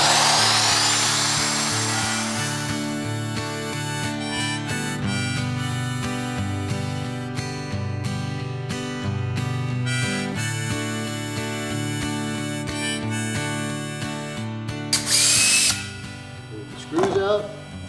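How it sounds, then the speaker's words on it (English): A router cutting wood for a puzzle jig, a loud, high, whining motor with grinding bursts as the bit bites into the workpiece, stopping and starting several times before winding down near the end. "Take your router."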